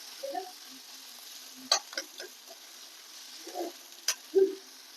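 Onion and tomato sautéing in a pan for a green-masala matki usal, heard as a faint, quiet background with a few soft, scattered bursts of stirring and scraping.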